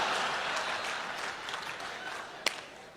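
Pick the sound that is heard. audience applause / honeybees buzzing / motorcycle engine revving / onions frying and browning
audience applause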